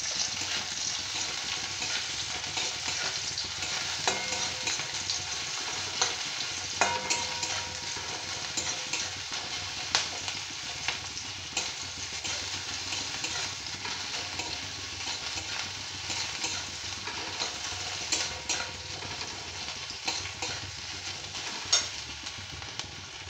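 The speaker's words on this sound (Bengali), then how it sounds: "একটা ছোট পেঁয়াজকে কুচি করে রেখেছিলাম, ওটা দিয়ে দিলাম। এটা ভালো করে ভেজে নিতে হবে।" Finely chopped small onion fries in a pan with a steady, even sizzle that runs unbroken throughout, a dense hiss with occasional stirring scrapes and no voices.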